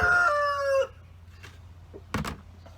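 A rooster crows loudly up close, followed by scattered soft clucks and a couple of sharp squawks from nearby chickens.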